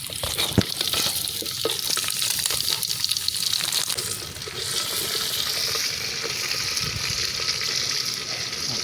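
Mustard seeds spluttering and crackling in hot oil in a village kitchen, a steady loud sizzle with scattered sharp pops that runs throughout.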